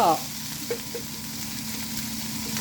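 Southern Thai chili paste fries in a pan with a steady, moderate sizzle and occasional soft stirring scrapes, close by, after a brief high squeak at the start.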